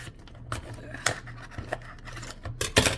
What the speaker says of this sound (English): I'm gonna have to use scissors to get this open